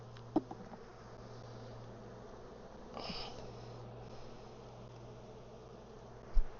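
Honey bees buzzing at an open hive during an inspection, a soft steady hum with a faint low drone throughout, a brief louder swell midway and a couple of sharp knocks.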